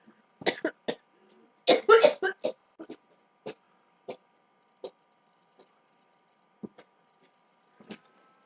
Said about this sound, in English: Cora's just having a coughing fit quick